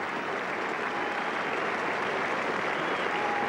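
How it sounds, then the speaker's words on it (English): A large cricket crowd at Headingley applauds steadily and loudly during the 1976 England v West Indies Test match, a dense sustained wash of clapping with no break. "the crowd loves every moment of it"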